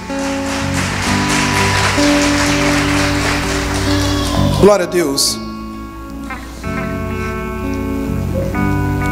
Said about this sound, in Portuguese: Uma salva de palmas para os nossos pequeninos